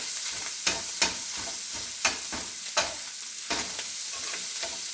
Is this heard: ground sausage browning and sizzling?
yes